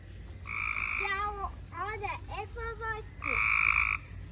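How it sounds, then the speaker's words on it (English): Frogs at the edge of a backyard pool at night give loud, rapid croaking bursts, several calls in quick succession with brief pauses between, close and prominent over faint background noise. "The frogs are so loud."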